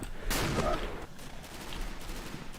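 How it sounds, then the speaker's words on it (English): Mortar and gun fire in a Red Orchestra World War battle on the Carpathian Crosses map, a loud blast followed by scattered crackling shots and rumbling echoes, fairly near with no voices. "I hear your mortars."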